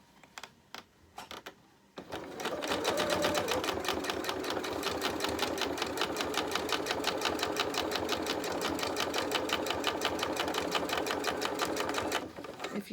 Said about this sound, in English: And then we're going to set off sewing again.